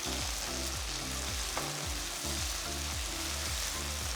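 Shallots browned golden, with chopped green chilies and curry leaves, sizzle and crackle steadily in a pan for a prawn curry, a continuous close fry broken by periodic stirring scrapes, with no talk.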